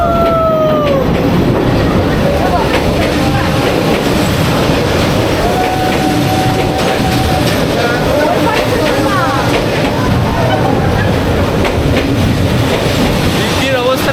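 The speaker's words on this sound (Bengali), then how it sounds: "ট্রেন আসছে আমার পেছনে," A train rolling slowly along Hanoi's narrow train street, a loud steady rumble with faint wheel squeals and clacking, close by and continuous over a noisy crowd.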